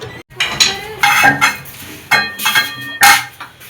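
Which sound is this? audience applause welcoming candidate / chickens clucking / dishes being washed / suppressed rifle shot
dishes being washed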